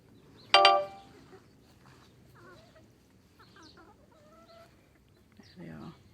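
Bantam chickens in a Somerset country garden, with a loud close cluck or squawk near the start followed by softer scattered clucks and calls over quiet outdoor background.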